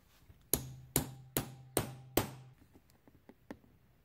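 A gear shift seal is tapped into a Honda Z50 Monkey engine: five sharp, evenly spaced hammer taps ring out close and loud, followed by a few fainter light taps, with no voices.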